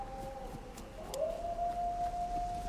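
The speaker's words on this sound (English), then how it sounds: "Hearing lots of dogs." Dogs howling in the survival video game DayZ: one drawn-out, wavering howl rises slightly and holds steady over a low background hum.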